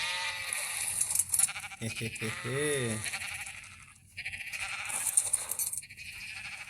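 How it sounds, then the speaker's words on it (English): Untamed sheep on a farm bleat loudly and close, wavering cries rising over a busy outdoor background, with someone briefly speaking as the flock calls. "These are untamed sheep that we are getting now."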